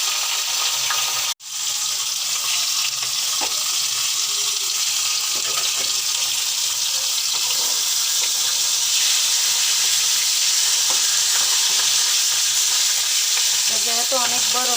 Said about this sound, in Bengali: মাথার লেস তেলই রান্না করতেছি